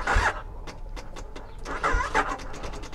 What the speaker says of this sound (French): Elle veut pas démarrer.